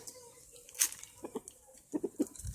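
Chickens clucking in short, scattered bursts nearby during feeding time, with a few sharper calls and some rustling in between.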